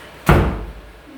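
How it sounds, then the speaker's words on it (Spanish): A door shuts with a single loud, close thud that rings out briefly in a room, with no talking. "¿Te pasa escuchando mi puerta?"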